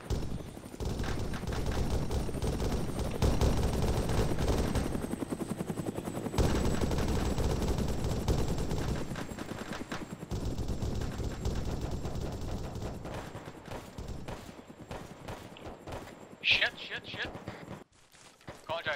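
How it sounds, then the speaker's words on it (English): Incoming gunfire with cracks and bursts during a military firefight, heard over a continuous loud engine or rotor-like drone and vehicle noise, with shouted radio-style talk in the mix. "Copy, we got incoming fire from the east."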